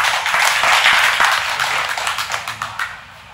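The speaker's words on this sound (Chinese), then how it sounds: "用我们掌声来欢迎他" An audience at a village gathering applauds to welcome a presidential office spokesperson, a burst of clapping that is loud at first, then thins into scattered separate claps and fades out.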